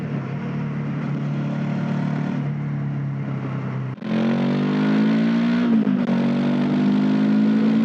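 An NX500 motorcycle engine revs up hard and steadily while cornering, a loud continuous drone that dips briefly near the midpoint and then climbs in pitch again, close to the rider with no talk.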